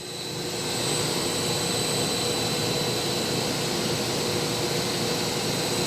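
Doosan Puma 2600SY multi-axis CNC turning center, 2011, spindle running at 3000 RPM: a steady, even whirring hum with a high whine, rising at the start and then holding constant, close and alone.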